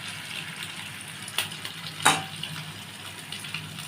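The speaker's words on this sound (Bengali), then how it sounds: "আমি ডিমটাকে ফাটিয়ে দিচ্ছি।" Eggs cracked into a pan of frying potato and onion give a steady soft sizzle, broken by two sharp cracking snaps close by, with no voices.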